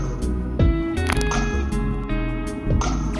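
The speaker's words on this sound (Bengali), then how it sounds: "ঘিটা দিয়ে একটু ভালো করে নেড়ে চেড়ে দিচ্ছি।" Ghee is stirred into bhuna khichuri in a pot, giving wet, squishy rice sounds and a spoon that knocks and scrapes several times against the pot. The sounds are close and moderately loud, with no talk.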